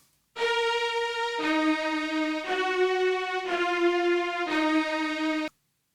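A mono strings track plays alone: sustained bowed chords change roughly every second in a steady sequence of five, smooth and moderately loud, ending in silence.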